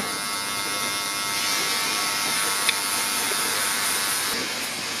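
A cordless WAHL Magic Clip hair clipper runs with a steady, close electric buzz throughout, briefly catching once in the middle.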